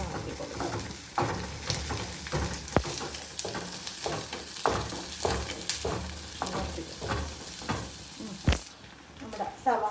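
Chopped onions fry in a pan, giving a steady close sizzle with stirring scrapes throughout and faint bird cooing somewhere in the background.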